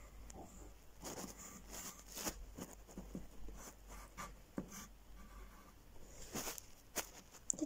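A pencil scratches across paper while a picture is drawn, quiet irregular strokes and rubs close by with short pauses between them.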